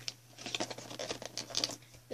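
Cardboard and plastic packaging of a surprise puppy toy box is handled close up, with quiet crinkling, tearing and tapping in irregular bursts.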